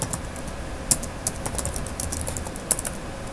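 Typing a terminal command on a computer keyboard: quick, close key clicks in an irregular stream, with a couple of sharper strikes standing out over a faint background hum.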